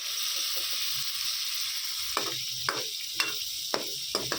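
Mutton fat melting in hot ghee sizzles in a steady bright hiss, with a series of sharp spoon clicks against the pan recurring every half second or so in the latter part.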